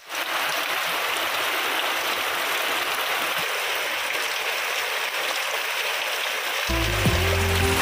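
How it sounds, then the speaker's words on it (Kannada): Heavy rain pouring over Kollegal town makes a dense, steady hiss that stays loud and unbroken throughout, with a faint low tonal sound creeping in near the end. "1 ಗಂಟೆ ಕಾಲ ಸುರಿದ ಜೋರು ಮಳೆ"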